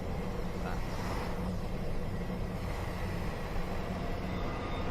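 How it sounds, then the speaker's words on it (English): A diesel train in Train Simulator Classic rumbling past near Watford, a steady, dense roar of engine and wheel noise that holds even throughout, with no talking. "I think I can hear a diesel train as well."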